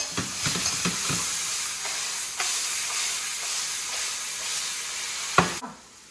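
Eggplant with shallots and garlic frying in a pan: a steady close sizzle and hiss with a few soft stirring scrapes, cutting off abruptly at the end.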